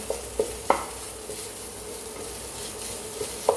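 Quinoa and brown rice upma with pepper being stirred in a pan, with a soft, steady sizzle and a few light scrapes and taps of the spoon against the pan, fairly quiet.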